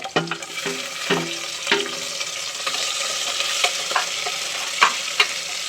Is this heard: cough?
no